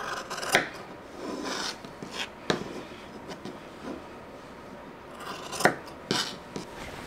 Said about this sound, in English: So I'm just gonna go ahead and cut around the perimeter and make sure they meet up